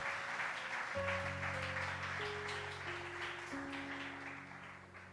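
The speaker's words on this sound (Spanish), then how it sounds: "Den un aplauso al Rey de Reyes y Señor de Señores." Church congregation applause, a soft distant patter of many hands under sustained organ or keyboard chords that shift pitch, continuing steadily throughout.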